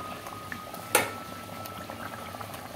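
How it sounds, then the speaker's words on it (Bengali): A pot of curry gravy for egg omelettes bubbling at a boil, a quiet, even simmering texture with one sharp clink of metal partway through. "এই যে দেখুন ফুটে এসছে অনেকটা"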